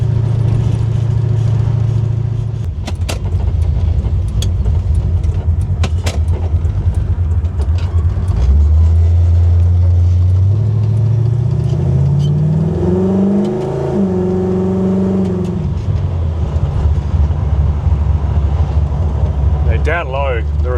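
A Holden HK fitted with alloy cylinder heads idles with a deep, steady rumble, then revs up in a long rising sweep, holds briefly and drops back to idle, close and loud throughout.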